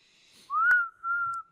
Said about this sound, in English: we're whistling it, not saying it